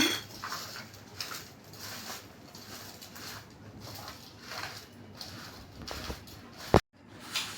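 Chunky raw mango pickle being mixed with salt and turmeric: soft, continuous wet stirring and patter from spoon against the mix at close range, ending in one sharp knock and then silence.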